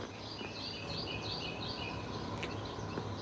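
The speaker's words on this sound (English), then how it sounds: "Y'all hear these birds?" Many birds chirp and twitter outdoors in short repeated bursts, steady and moderately close, over a constant hiss of insects and background hum, with no talking.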